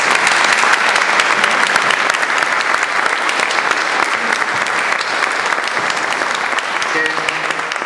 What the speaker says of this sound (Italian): vorrei un applauso anche da parte vostra agli sponsor